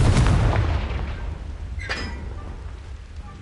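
A Confringo fire curse blasts in the Hogwarts Legacy video game, a heavy booming explosion that rolls off into a fading rumble with a faint crackle.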